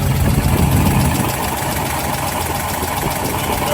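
A 1961 Ford F100 pickup with a Holley carburetor and a slight header leak idles steadily up close, a continuous low rumble with an even, lumpy engine throb and no talking.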